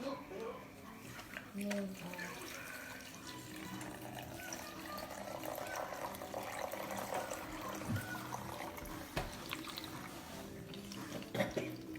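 Water trickles and drips through homemade filters, a soft, faint running sound beneath children and an adult talking.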